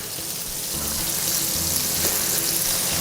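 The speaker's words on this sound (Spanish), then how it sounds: "vamos a sofreír la carne. Ponemos el pollo y añadiremos el conejo también" Chicken and rabbit frying in oil in a paella pan for paella valenciana, a steady bright sizzle that swells slightly as the meat goes in, close and continuous, with no talking.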